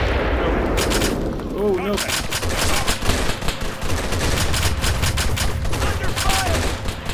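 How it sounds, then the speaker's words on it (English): Rapid bursts of gunfire in the military shooter game Arma 3 crackle almost continuously, loud and close with dense overlapping shots, while players talk over the fire. "Under fire!"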